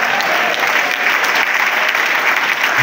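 A church congregation at a worship and exhortation service applauds loudly, dense sustained clapping filling the space throughout.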